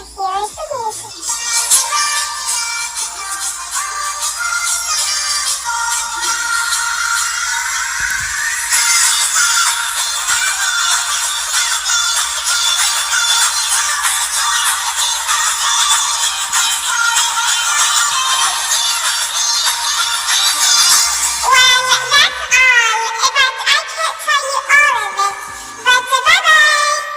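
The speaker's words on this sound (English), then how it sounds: "Now I want you to hear some music" Music plays from a phone for nearly half a minute, a steady full mix with bright melodic lines throughout and a busier, more broken texture near the end, with no talk over it.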